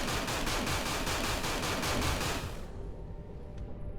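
Laser weapons fire in rapid repeated bursts during space combat in the game Everspace, a loud dense noisy barrage that stops suddenly and leaves a quieter hiss.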